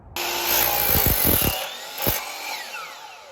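Power saw cutting through 8-foot 2x4 lumber for a queen size bed frame, a loud steady whine with a few sharp knocks and a second brief cut near the end, no talking.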